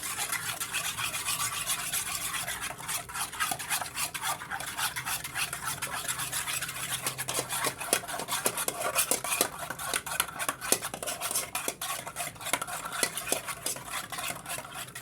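A spoon stirs quickly and steadily in a bowl, a continuous close scraping rub with frequent light clinks against the sides, no talk.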